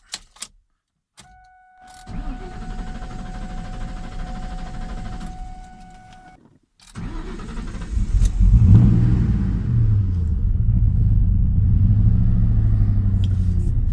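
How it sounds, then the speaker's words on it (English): After a throttle body cleaning, a car's starter cranks twice and the engine catches, rumbling loudly and unevenly near the microphone as it settles into a rough idle. There is a brief electronic tone before the first start attempt and no talking. "I'm going to go ahead and start the vehicle up"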